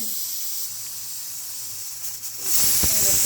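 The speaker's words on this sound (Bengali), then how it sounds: "এই দেখুন, শোঁসো আওয়াজ পাচ্ছেন।" Pressure cooker of mutton on a low flame, giving a steady high hiss of escaping steam that swells louder near the end, with a voice talking in the background.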